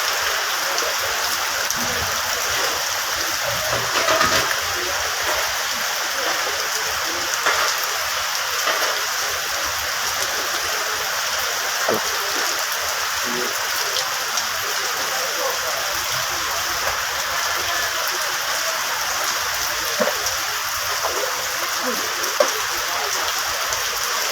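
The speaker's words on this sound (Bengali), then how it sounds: "তারপর বৃষ্টি হচ্ছে" Steady rain falls at an outdoor cattle market in Gabtoli, a continuous even hiss with scattered louder drops throughout, unbroken and without clear talk.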